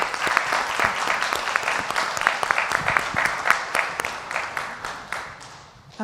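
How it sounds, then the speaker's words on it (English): Audience at a disability employment symposium applauds the moderator, with distinct nearby claps standing out over a thinner crowd patter that tapers off before a brief final burst. "Can we give a round of applause for our moderator as well?"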